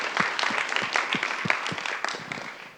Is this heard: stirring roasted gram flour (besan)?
no